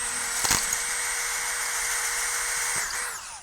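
A drill bit bores into a stripped 5mm hex bolt on a brake rotor, a steady high whine running continuously at close range with a brief click near the start before it winds down at the end.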